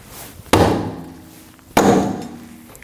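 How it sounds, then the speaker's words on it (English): A dead blow hammer strikes the back side of a stuck wheel on a 2015-2024 Ford Edge twice, about a second apart, each hit a loud, dull thud with a short ringing tail. "Now we can strike the wheel from the back side using a dead blow hammer."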